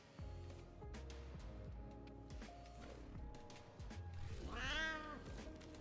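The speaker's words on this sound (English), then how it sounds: "Quit meowing at me, Smeeta." A cat meows loudly and close, several harmonic calls spread across the clip with a drawn-out, rising-falling yowl near the end, heard over a steady low hum of game and room noise.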